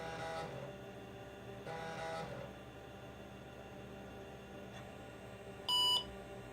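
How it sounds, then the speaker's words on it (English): An IBM AT computer beeps during its startup memory check. A single short, sharp beep sounds near the end, after several seconds of quiet machine hum and faint intermittent whirring. "it's gonna beep loudly into my ear"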